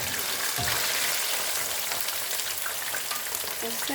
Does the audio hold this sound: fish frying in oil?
yes